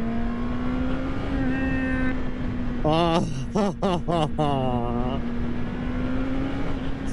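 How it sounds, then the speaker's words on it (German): A Honda CB650R four-cylinder motorcycle engine revs hard on the autobahn, its pitch climbing and falling in several sharp surges over steady engine and wind drone, close and loud, with a brief exclamation from the rider. "Dieser Vierzylinder-Sound kickt. Ab 8000 Umdrehungen kickt der."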